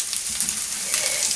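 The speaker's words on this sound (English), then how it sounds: "I've been cooking it on a low heat because it was just getting a bit too much." Special fried rice cooks over low heat in a pan, giving a soft, steady sizzle with faint scraping as it is stirred continually, heard alone and fairly close.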